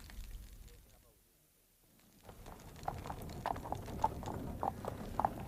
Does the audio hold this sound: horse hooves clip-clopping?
yes